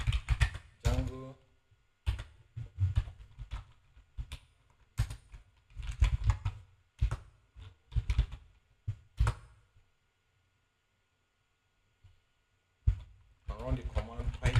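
Quick clusters of computer keyboard keystrokes clatter close up in uneven bursts, pausing briefly before more taps, with a voice speaking at the start and end.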